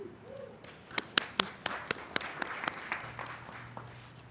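A small outdoor crowd at a spring graduation celebration claps for a graduate. The claps come as sparse, distinct, sharp hits, quiet and fairly distant, with a low hum running underneath.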